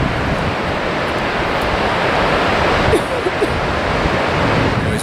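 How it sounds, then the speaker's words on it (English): Cold wind blowing off Lake Michigan across an exposed dune ridge, a steady, loud broadband roar of gusting air buffeting the microphone throughout, with no pause or talk. "the wind coming off of Lake Michigan is freezing cold"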